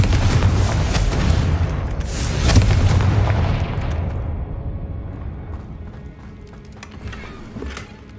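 A Confringo fire spell bursts in Hogwarts Legacy: a loud booming blast opens, a second heavy boom follows around two seconds in, and the rumble trails off into a lingering low decay.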